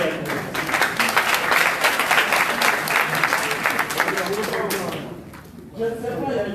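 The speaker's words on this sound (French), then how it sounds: "Je voudrais demander d'applaudir votre belle diagnostic." An audience at a welcome event for the local football team with the sports minister breaks into sustained, dense applause that fills most of the moment before tapering off, with faint voices after it fades.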